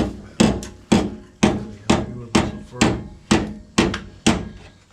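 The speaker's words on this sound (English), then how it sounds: "Couple taps with the hammer and it'll be just fine." Sharp metallic hammer taps strike a 1968 Ford Mustang rocker panel in a steady rhythm, about nine evenly spaced blows, each ringing briefly before the next, close and fairly loud.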